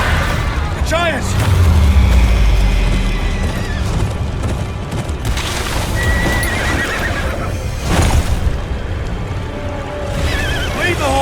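Horses whinny and neigh loudly over heavy rumbling and clattering hooves, amid a chaotic battle soundscape with booms and shouting voices, in the video game Game of Thrones: Kingsroad.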